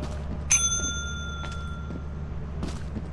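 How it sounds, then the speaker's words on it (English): A single clear ding of the service bell at the company counter in the video game Lethal Company, bright and ringing out, followed by fainter clicks and game noise over a low hum. "You gotta ding the bell."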